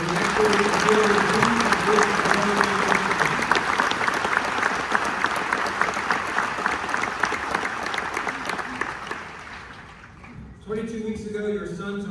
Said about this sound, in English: I would like everyone to give another round of applause to the drill sergeants and their families